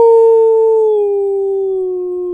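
A dog-like howl from the Roblox game Adopt Me, one loud sustained tonal wail that slowly slides downward in pitch over about two seconds, close and clear with nothing else heard.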